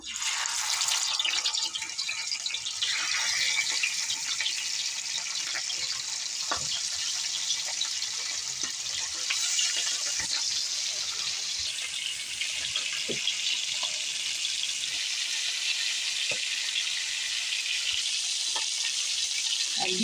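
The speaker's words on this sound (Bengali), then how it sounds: "এখন ভেজে নেব তাওয়াটা গরম হয়ে গেছে তেল দিয়ে দেবো মাছ ভাজার জন্য" Khopkhopi fish, rubbed with salt and turmeric, fries in oil on a hot tawa, giving a steady, loud, close sizzle that holds for the full stretch, with a few light clicks and taps.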